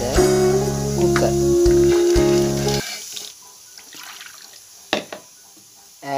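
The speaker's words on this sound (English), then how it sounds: "Adding little water so that the dal and these things are soaked." Water poured from a tap into a pressure cooker holding dal and other ingredients, a steady splashing stream for a few seconds, then quieter clatter and handling noises.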